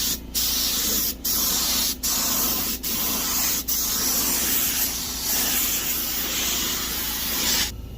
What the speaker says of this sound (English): So now they just start painting.